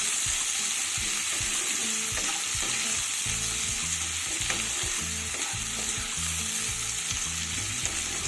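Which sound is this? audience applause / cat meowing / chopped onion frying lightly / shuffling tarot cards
chopped onion frying lightly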